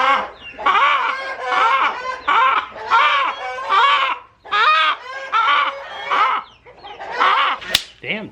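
Barred Rock hens and roosters cluck and squawk loudly in a barn, with agitated, continuous bursts of calling close to the microphone and a sharp click near the end.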